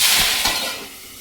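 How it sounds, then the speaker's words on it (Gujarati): Garlic sizzling in hot oil, a loud bright hiss that bursts up at once and quickly fades away within a second. "તેલ મૂકી દીધું જો લસણ નાખ્યું"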